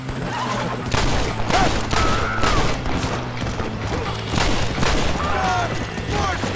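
Gunfire cracks out in scattered, sharp reports during a rebels-versus-army battle in Red Dead Redemption, set in Mexico. Horse whinnies and steady background noise run underneath the shots throughout.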